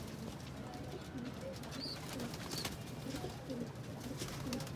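A Ferozpuri pigeon coos softly in a series of low, repeated calls over faint background noise.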